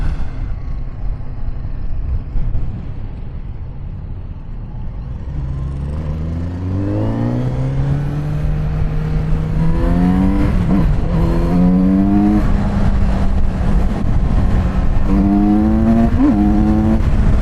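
A 111-horsepower Kawasaki Z900RS motorcycle engine under way, a steady close drone with rising and falling revs as the rider works through the gears, loud and continuous with no talking.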